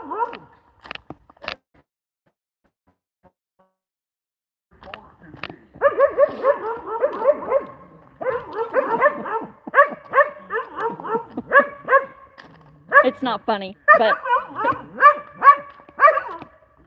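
Dogs on a homestead bark and whine in bursts of short, sharp yelps and whimpers, close by, while a person talks briefly nearby.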